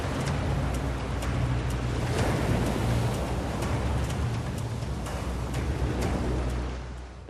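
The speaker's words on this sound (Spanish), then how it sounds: "Un muro de agua atraviesa Miami como una bola de demolición." A thirty-storey tsunami wall of water surges through Miami as a steady, dense, roaring rush of water, loud and continuous, fading slightly at the end, with no voices.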